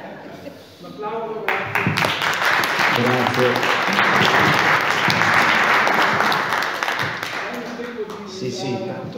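An audience at a talk on Nikola Tesla breaks into sustained applause, loud and dense for several seconds, rising after a brief thanks and fading as someone speaks over the tail end.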